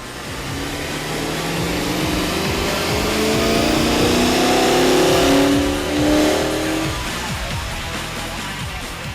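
Tuned car on a dyno being pushed through a hard wide-open-throttle run, engine note climbing steadily for several seconds then backing off and revving again, loud and close with no talk.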